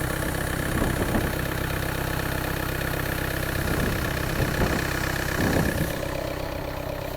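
A Skoda car engine idles steadily nearby, a continuous low mechanical hum with a few brief bumps and no talking.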